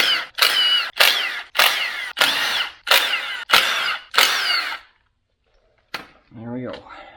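A power tool, likely an impact gun, zips off the front axle bolts of an FJ40 Toyota Land Cruiser in eight short, loud, evenly spaced bursts, then falls briefly silent before a faint mechanical clatter.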